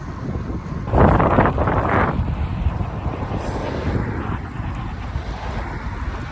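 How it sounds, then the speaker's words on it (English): Steady, heavy wind roar buffets the microphone outdoors, with a louder gust early on, no voices. "Extremely windy."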